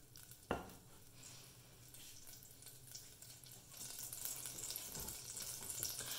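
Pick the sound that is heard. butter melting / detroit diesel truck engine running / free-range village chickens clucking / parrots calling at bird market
butter melting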